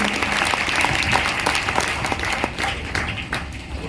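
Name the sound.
loud applause for newcomers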